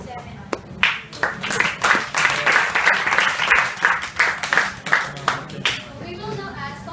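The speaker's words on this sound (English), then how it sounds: "let us give a round of applause for all the speakers who gave a wonderful speech for today's seminar" Seminar audience at a workplace diversity training program claps for the speakers, a moderate burst of hand clapping that swells and then thins into scattered claps before fading.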